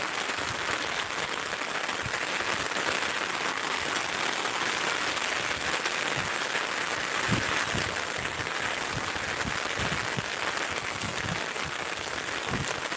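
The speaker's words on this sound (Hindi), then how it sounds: "बारिश हो रहा है ना, तो मोबाइल के कैमरे पे पानी पड़ रहा है" Heavy rain pours steadily during flooding in a village, a dense hiss of drops on surfaces with scattered sharper patters and taps close by, no speech.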